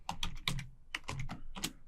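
A computer keyboard is typed on in a few quick bursts of close, crisp keystrokes with short pauses between them.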